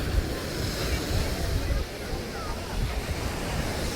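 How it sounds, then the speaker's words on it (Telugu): Ocean waves breaking on a shore where boats are moored, a steady, fairly faint surf roar with rolling low rumbles and wind hiss mixed in throughout. "చూడండి అలలు చాలా అంటే చాలా వస్తున్నాయి."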